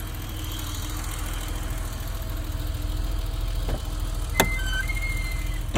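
A 1989 BMW E32 735iL shuts down after a drive, leaving a low steady hum with soft whirring pump sounds, a couple of sharp clicks and a rising electric whine nearby.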